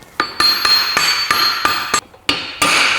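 A pneumatic impact wrench hammers a differential nut tight in a series of sharp, loud bursts of rattling blows separated by brief pauses.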